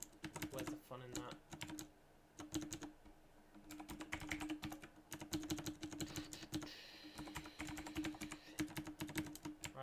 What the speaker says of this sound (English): this is basically going to be me typing plugins a bunch of times.